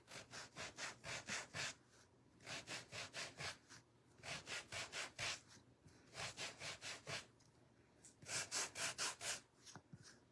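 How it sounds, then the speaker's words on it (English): Hand sanding of wooden barn quilt kit pieces produces quiet, rhythmic back-and-forth rasping strokes in repeated clusters, faint and close with no talking. "Let's sand everything else and then distress everything else."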